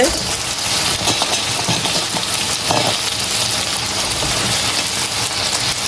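Crabs tossed into hot oil hiss and sizzle loudly and continuously, with scraping stirring and turning through the mix and a broad, close wash of frying noise throughout.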